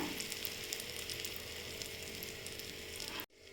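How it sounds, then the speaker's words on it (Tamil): Egg kalakki mixture poured into well-heated oil sizzles loudly and steadily up close, a dense frying hiss that cuts off abruptly near the end. "நமக்கு எண்ணெய் நல்லா ஹீட் ஆயிடுச்சு இப்போ வந்து நம்ம முட்டை கலக்கியே ஊற்றிக்கலாம்"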